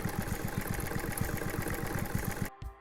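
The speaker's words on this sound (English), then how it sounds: "Sew an envelope out of 2 layers of plastic." A sewing machine runs steadily as it stitches two layers of a clear plastic folder into an envelope, its rapid even mechanical chatter continuing for over two seconds before stopping abruptly.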